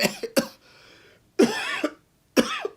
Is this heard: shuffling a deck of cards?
no